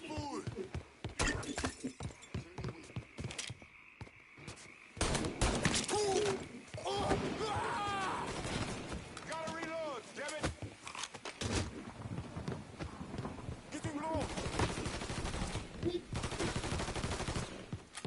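Gunfire in the crime action game Mafia 3: bursts of shots and rapid volleys crackling repeatedly across a tense firefight, loud and close, with someone shouting excitedly in between.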